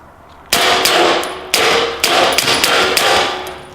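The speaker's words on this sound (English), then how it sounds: "I'm gonna shoot this metal can right here." Suppressed M9A3 pistol shots aimed at a metal can outdoors: three sharp, loud reports about half a second to a second apart, each followed by a ringing metallic clang and short decay, with no talking.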